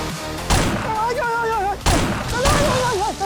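Two loud, sharp gunshot blasts ring out about a second apart, with talking and a voice continuing between and after them.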